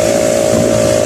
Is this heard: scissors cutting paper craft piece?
no